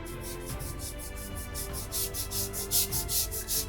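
A paintbrush held flat rubs back and forth on a wooden cosplay shield, a soft rhythmic scratchy swish repeating about twice per second, close and fairly quiet, growing slightly stronger toward the end.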